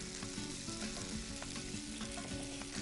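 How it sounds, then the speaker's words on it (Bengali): Beef seekh kebabs, tenderized with papaya, sizzle steadily in a hot pan on a gas stove, with a dense, continuous frying hiss and small pops as they are turned over and over. "ঠিক এইভাবে ঘুরিয়ে ঘুরিয়ে ভাজতে হবে"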